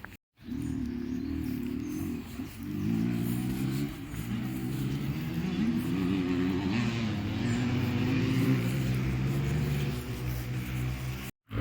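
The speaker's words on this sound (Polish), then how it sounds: "tam jedzie taki mały chłopczyk na takim malutkim motorku" A small child's mini motorbike riding past, a steady buzzing engine drone that rises and shifts in pitch over about eleven seconds, moderately distant, with no talking.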